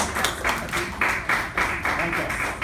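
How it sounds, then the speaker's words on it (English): A small meeting audience claps for a speaker, a fairly close patter of hand claps in brief bursts with a faint background murmur. "Can we have a huge round of applause to Mr."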